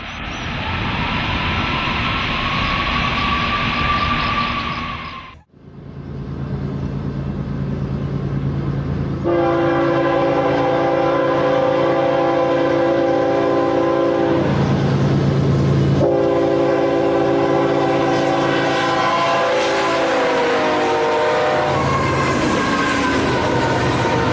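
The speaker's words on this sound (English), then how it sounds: "This enormous train, seemingly endless, is hauling oil from the field." A long freight train hauling oil rumbles steadily, its horn blaring in sustained harmonic blasts over the rolling rail noise, with a brief lull early on.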